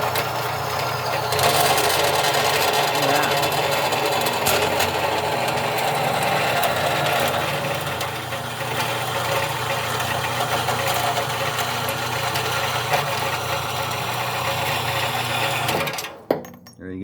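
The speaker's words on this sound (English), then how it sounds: "That is how a horizontal bandsaw works." A horizontal bandsaw cuts through a piece of metal, its motor and blade giving a steady, loud whirring grind that holds for most of the stretch and then winds down near the end.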